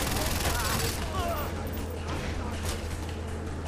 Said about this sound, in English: And you're being shot by a machine gun.